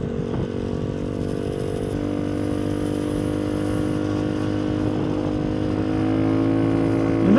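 A Honda Ruckus scooter fitted with a Helix 250cc engine drones at full throttle, a steady close engine hum whose pitch holds and climbs slightly, with wind rush and no talk.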